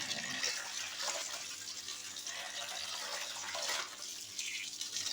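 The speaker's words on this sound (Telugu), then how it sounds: "చూడండి ఇలా నీళ్ళలో వేసి జాడించినట్లు కడగాలి." Gongura leaves are swished and rinsed by hand in a vessel of water, producing a steady faint sloshing and splashing that swells briefly near the end; no one speaks.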